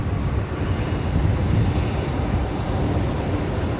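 An Aircalin Airbus A330neo arriving at night at Brisbane Airport, heard as a steady, broad jet roar with low rumble that holds at an even, fairly loud level with no talk.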